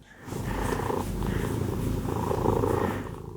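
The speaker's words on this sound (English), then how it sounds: "You're purring so loud" Loud, close cat purring, a steady rumbling rhythm of in-and-out breaths, with nothing else heard.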